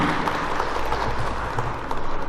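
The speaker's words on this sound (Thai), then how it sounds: "ขอเสียงปรบมือต้อนรับคณะวิทยากรของเราทุกท่านค่ะ" Audience applause welcoming a panel of speakers at the opening ceremony of a training program for newly appointed school administrators, a dense, steady wash of many hands clapping throughout.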